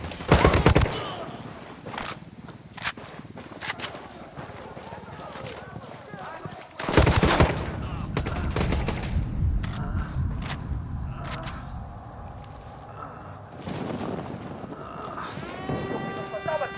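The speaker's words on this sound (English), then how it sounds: "Opening fire on these fuckers." Gunfire in a Ghost Recon: Wildlands firefight comes as sharp, loud bursts of shots, with a heavy volley near the start and another around the middle, then scattered sporadic cracks over a busy background of game noise.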